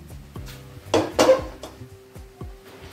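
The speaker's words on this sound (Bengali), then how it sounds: "এবার আমি এই কড়াইটা পাল্টে অন্য একটা কড়াই দিয়ে বসিয়ে দিচ্ছি।" A wok being swapped on a kitchen stove, a few metallic clanks and scrapes of cookware, two louder bursts near the middle, then quieter knocks.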